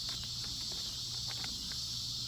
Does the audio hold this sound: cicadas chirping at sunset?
yes